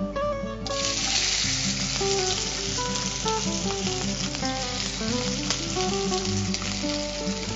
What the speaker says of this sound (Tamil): இப்போ கடுகு வெடிச்சதுமே நான் இதுல வந்து முதல்ல பூண்டு போடுறேன்